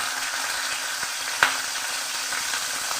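Bay leaf and nigella seeds dropped into hot mustard oil, a steady low hiss of frying with a single sharp crackle near the middle and faint ticks around it, no voices.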